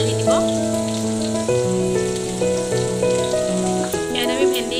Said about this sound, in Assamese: আমাৰ তেল গৰম হৈছে, ইয়াত আমি পিঁয়াজ আৰু জলকীয়া দিম। এইখিনি ৰঙচুৱা হোৱালৈকে আমি ভাজি দিম।